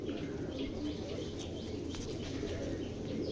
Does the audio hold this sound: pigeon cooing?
yes